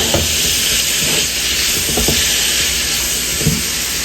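Red and green capsicum, coriander and carrots being mixed in a pan: a steady hiss with soft, irregular stirring scrapes and light knocks throughout, close by and with no talk.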